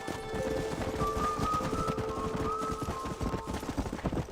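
Rapid hoofbeats of galloping wild horses in Red Dead Redemption clatter steadily, with a horse's whinny-like tone rising briefly in the middle; fairly close and continuous.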